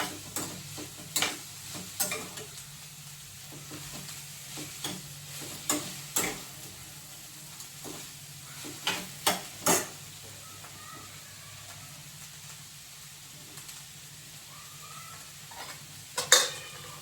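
Cabbage sabzi, a dry Maharashtrian vegetable dish, frying in a pan with a soft continuous sizzle, broken by irregular sharp clicks and scrapes of a spoon stirring against the metal.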